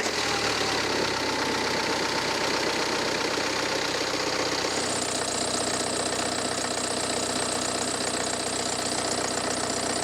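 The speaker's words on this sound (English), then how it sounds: "then we'll fire the engine up and check to see if we have any leaks" A BMW N47 diesel engine starting and settling into idle after an oil filter housing gasket replacement, a close, loud, steady clattering rumble with a shift in tone about halfway through, no talking.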